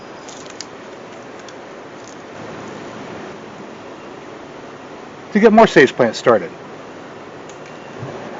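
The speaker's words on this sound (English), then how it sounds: "I'm really sorry about that noise that you hear in the background. That is our air conditioner running" A household air conditioner runs steadily in the background as a broad, constant hiss and hum, with a person talking briefly over it partway through.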